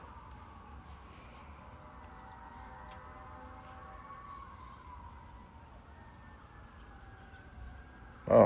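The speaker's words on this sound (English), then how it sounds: "Sounds like a fire truck." Sirens from a fire truck wail through a town, a steady distant rising-and-falling tone that holds throughout, followed by a sudden louder thump near the end.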